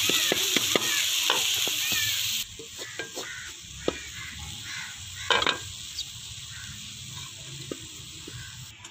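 Onions and tomatoes cooking in oil in a kadai, a close sizzle that drops quieter halfway through, with scattered spatula scrapes and taps.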